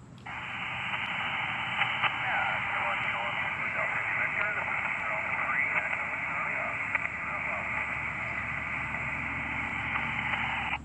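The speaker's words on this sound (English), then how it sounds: "Chris, I can barely copy you there. If that's you, give it another go." A faint amateur radio transmission, a weak call sign reply, crackles through a continuous band of static and hiss that runs the whole way without a break. A voice is barely audible inside the noise.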